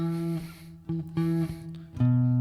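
Low tapped guitar bass line for a riff: a handful of sustained, ringing low notes changing every half second or so, clean and up close with no talking.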